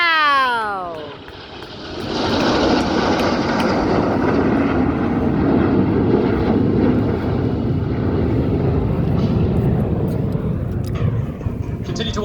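RAF Red Arrows jets roaring past in formation at an air show, a loud broad engine rush that swells after a falling whine and holds steady for several seconds before easing off.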